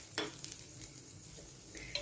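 Chopped onion sizzles softly in oil in a pan for onion uttapam over medium heat, with a few light stirring scrapes and a faint utensil clink near the end.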